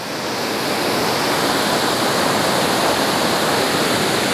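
A waterfall beside Balingen castle in fresh snow makes a steady, dense rush of falling water that stays loud and unbroken throughout, with no voices.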